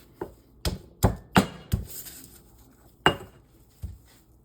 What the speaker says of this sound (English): you're supposed to use a mortar and pestle for pesto